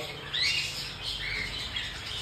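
Cockatiels of rare color mutations give a few shrill, scratchy squawks and chirps at moderate distance over a soft background hiss, with no talking.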